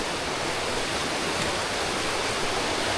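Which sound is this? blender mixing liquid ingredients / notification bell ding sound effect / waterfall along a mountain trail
waterfall along a mountain trail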